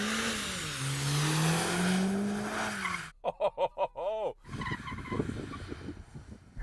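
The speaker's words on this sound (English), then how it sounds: "Oh, it's going sideways. All AMGs should be able to drift, and this one can too." Tires of an AMG car squeal in a long wavering screech as it drifts sideways, then a burst of sharp chirps and scraping rumble follows.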